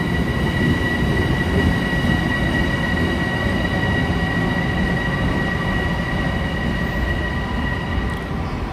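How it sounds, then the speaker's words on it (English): Long Island Rail Road trains rumble through the underground platforms at Grand Central Madison station in New York, a steady loud roar of rolling cars with a high whine over it, close and continuous with no voices. "The trains are coming and going everywhere."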